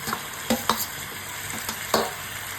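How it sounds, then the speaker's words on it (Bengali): Fried okra (bhindi/ladies finger) tipped into bubbling spice masala in a pan and stirred, giving soft sizzling with a few sharp spatula scrapes and clacks spaced across a short stretch, close up and with no talking. "এখন দিয়ে দেব ভেজে রাখা ভেন্ডিগুলো"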